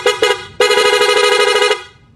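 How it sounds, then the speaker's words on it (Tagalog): A PL Loudhorn on a Raider 150 carb motorcycle, switched through a Honeywell switch with the engine off, gives two short loud blasts and then one sustained blare of nearly a second and a half that cuts off sharply. "Napaka-solid ng buga ng busina mga sir kahit patay pa yung makina."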